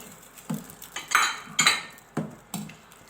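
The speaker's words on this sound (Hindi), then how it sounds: "कॉर्नफ्लोर ऐड करके चमचा इसलिए चलाना है" A metal spoon stirs chicken corn soup in a pot as cornflour goes in to thicken it, making a series of rhythmic clinks and scrapes against the pot about every half second, close and clear with no voices.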